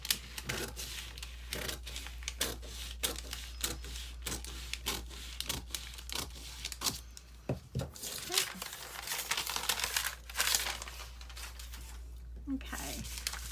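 Packing paper being handled, crinkled and cut for a stamped collage, heard as a run of close crisp rustles and sharp snips with irregular rhythm over a steady low hum.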